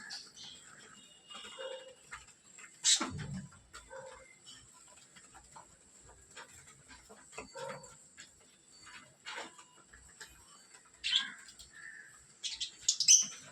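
Budgerigars chirp and tweet in scattered, faint bursts while eating, with soft rustling and pecking noises between calls in an otherwise quiet space.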